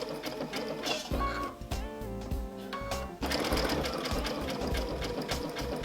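A sewing machine runs a dense satin stitch along raw-edge appliqué at reduced speed, its needle chattering in a steady whir that stops briefly, then resumes louder and continuous, close by with no talking.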